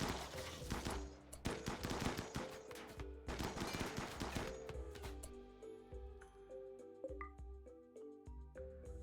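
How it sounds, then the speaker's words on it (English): Rapid gunfire in a video game: dense bursts of automatic shots at first, thinning to scattered distant shots and faint pings and ticks, with no talk. "they're shooting over each other's heads."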